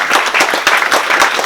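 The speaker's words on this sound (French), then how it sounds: "vous pouvez les applaudir." Audience at a municipal election candidacy announcement in Montauban applauding the campaign team, close, loud, dense clapping with no talk over it.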